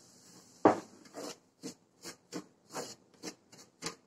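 Semolina roasting in ghee for Tamil rava kesari, stirred with a spoon in a pan: a sharp scrape, then a steady series of soft, close scraping and rubbing strokes about every third of a second, fairly quiet and with no voices.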